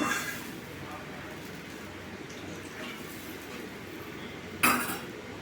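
A lid is set onto a cooking pot of potato curry with a single short metallic clank near the end, following a stretch of quiet kitchen background and faint clatter.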